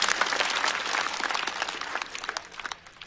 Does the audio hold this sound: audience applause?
yes